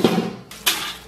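Cooked rice noodles scooped from a pot during a luosifen recipe, with short clatters of metal against cookware at the start and again after a brief pause, close by with no talk.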